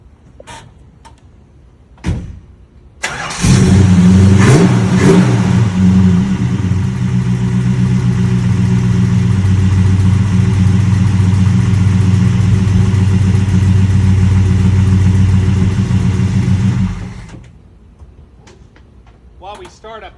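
A big V8 engine in a 1969 Dodge Super Bee cranks and roars to life at about three seconds, revving with a deep rumble and settling into a loud idle before shutting off.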